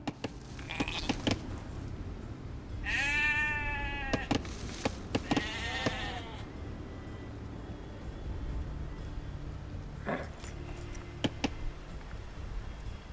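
Sheep bleat in Age of Empires 2 Definitive Edition on Xbox, with two clear wavering bleats close together early on and a fainter one later, among soft game ticks and clicks.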